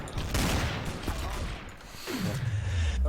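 Gunfire in the video game Garry's Mod, Trouble in Terrorist Town mode, a short rattle of rapid shots that is loud and close, followed by a falling whoosh.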